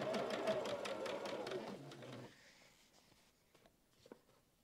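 A sewing machine stitches small white squares and a bodice piece onto a baby quilt in a close, quick run of needle strokes that stops after about two seconds, followed by faint handling sounds.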